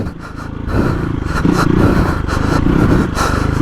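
Hero XPulse 230 big bore motorcycle riding off-road in second gear, engine droning loudly and close with rough, fluctuating throttle and clattering over uneven ground.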